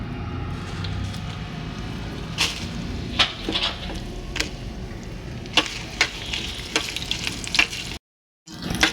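Dried red chillies frying in hot oil for a chutney, a loud crackling sizzle with sharp pops and stirring clinks, cutting out briefly near the end before resuming.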